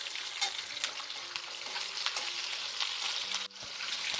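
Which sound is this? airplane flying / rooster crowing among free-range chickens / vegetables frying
vegetables frying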